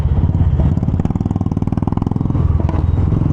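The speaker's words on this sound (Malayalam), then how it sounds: "ഇങ്ങനത്തെ സൗണ്ടുകളുള്ള ബുള്ളറ്റൊക്കെ കേട്ടിട്ട് കുറേ നാളായിട്ടാണ്. ഇതെന്താ പഞ്ചാബി എക്സോസ്റ്റ്?" Royal Enfield Bullet motorcycle with a Punjabi exhaust idling nearby, a loud, steady low thump of rapid firing pulses that holds throughout with no talk over it.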